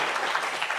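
Audience clapping for a speaker at the Kenya EdTech Summit, a short burst of steady, dense applause from a crowd.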